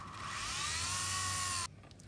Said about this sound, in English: drilling the hole just a little bit deeper